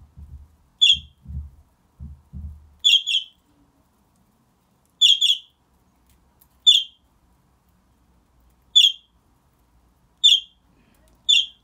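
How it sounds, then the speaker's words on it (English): Pet parrots in an aviary downstairs give sharp, isolated chirps about every second or two, clear but moderately distant, with a few low thumps at the start. "If you listen really closely, you can hear the birds downstairs."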